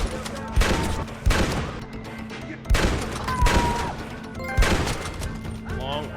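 Rifle and other long-arm gunfire at a gang hideout in the Western game Red Dead Redemption. There are several loud, booming shots about a second apart, with echoing tails and busy game noise between them.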